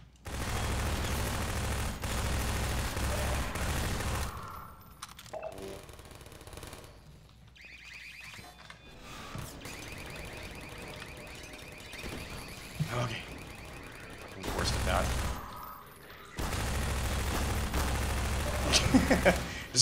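Half-Life 2 gunfire in the Nova Prospekt chapter comes in bursts of rapid automatic shots, loud stretches broken by quieter gaps, with no talking.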